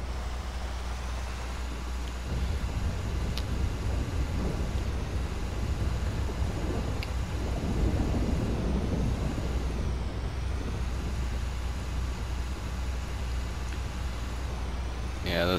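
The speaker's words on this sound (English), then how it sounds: "Gets a little irritating when the RPMs are constantly screaming at 2200 RPM." Heavy truck engine droning steadily at high RPM while driving in GTA 5, a constant low rumble with road noise that runs through the whole stretch, with no talk over it.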